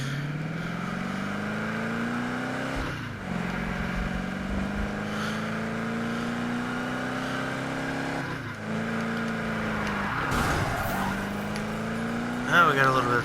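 A car engine revs and pulls away with rising, whining tones. It shifts up through several gear changes, and a rougher burst comes near the end. Loud, close and continuous.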